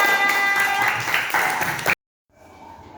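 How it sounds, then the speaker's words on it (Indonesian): A class of schoolchildren claps together in a classroom, a brief burst of hand clapping with children's voices mixed in, which cuts off abruptly to near silence before faint room sound returns. "ya, tepuk tangan semuanya"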